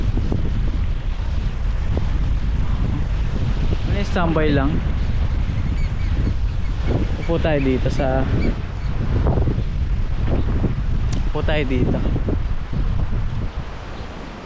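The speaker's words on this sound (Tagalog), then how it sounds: "Malakas ang hangin. Ang lakas ng alon." Strong wind buffets the microphone on Weymouth Beach, New Zealand, with waves surging beneath it. The roar is loud and constant throughout, and someone speaks a few times over it.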